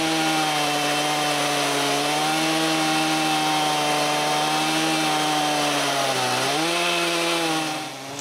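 A chainsaw cuts wooden planks outdoors, running loud and continuous at high revs with a steady droning pitch that briefly dips under load before the sound tapers off.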